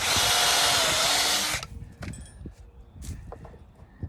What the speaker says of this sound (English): So drill a hole.